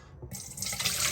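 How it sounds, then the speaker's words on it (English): Cold tap water gushes into a clean bowl, starting with a brief trickle and quickly becoming a steady, close splashing stream. "I just have to add water,"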